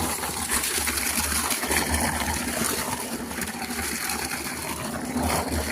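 Water pours steadily into a container for a solution being mixed, a continuous splashing gush that runs the whole stretch, fairly loud and close, with no talk over it.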